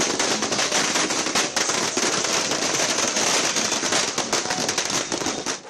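Firecrackers and fireworks set off in celebration at Ayodhya, a dense, continuous barrage of sharp cracks and pops, loud and close, with no break across the whole stretch.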